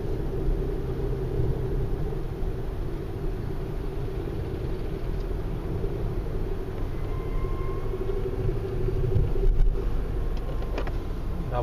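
Car cruising through city streets in Nicosia, Cyprus, heard from inside as a steady low road and engine rumble with a slight swell near the end, no talk over it.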